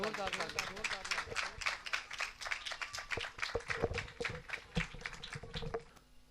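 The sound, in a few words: church congregation applauding loudly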